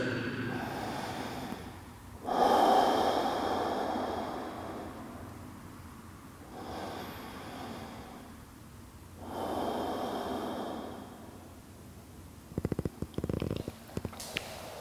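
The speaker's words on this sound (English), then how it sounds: "let your head hang, and breathe through your chest" Slow, deep breaths drawn through an open chest while holding a yoga back bend such as cobra or camel pose, with three long rushing inhale-exhale swells at close range, ending in a few short rough snorting puffs.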